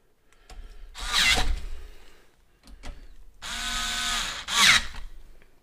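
Power tool or drill bursts driving screws to mount a liquid cooler radiator for a Cooler Master MasterLiquid ML240L v2 RGB in a PC build, with several close, loud whirring runs separated by short pauses.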